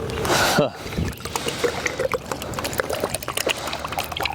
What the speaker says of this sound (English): I have to empty all my water into this thing because this gallon of water is like way too big to carry around.